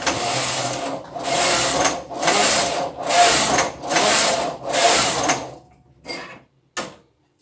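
A knitting machine carriage runs back and forth across rows of waste yarn, giving five loud, even mechanical passes of about a second each, followed by two shorter sweeps, with no voices.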